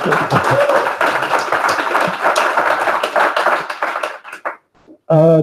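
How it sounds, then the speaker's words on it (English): A crowd at a React meetup applauds in a dense, loud round of clapping that thins into a few last claps before a voice speaks at the end. "give them a round of applause"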